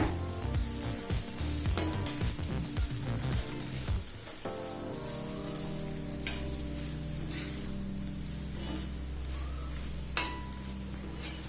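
Tomato rice with coriander is stirred in a kadai, with a soft continuous sizzle, scraping spoon strokes and occasional light clinks against the pan, close and moderately quiet.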